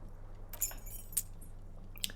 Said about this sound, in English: You hear a jingle. Keys are clinking in the pocket of your flare-cut pants.